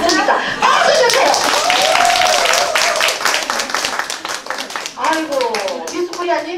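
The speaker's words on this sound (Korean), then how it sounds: "박수 주세요." Audience clapping at a Korean entertainment show, a fast run of sharp, close hand claps that thins out toward the end, while someone speaks and laughs over it.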